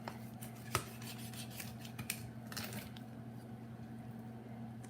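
Chicken is cut in half for a peach cobbler dish, heard as a few faint, scattered cutting crunches and rasps over a steady low electrical hum, with no voices.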